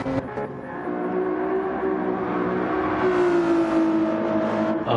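Porsche 911 race car in Gran Turismo 7 roaring at high revs throughout, a loud sustained engine note climbing steadily in pitch as it accelerates, with other cars audible in the mix.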